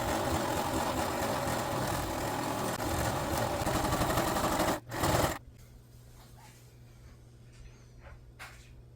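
A sewing machine runs steadily while stitching a simple seam on a cosplay costume, loud and continuous, then stops abruptly near the end, leaving a quiet room with a few faint handling sounds.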